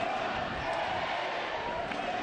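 Soccer fans cheer for the Tampa Bay Rowdies late in a USL match against the Charlotte Independence, a dense, steady crowd roar filling the stadium without pause.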